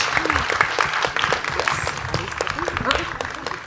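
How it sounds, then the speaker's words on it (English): An audience claps at a stage event, steady moderate applause running throughout with voices and shouts mixed in underneath. "Can we have a round of applause"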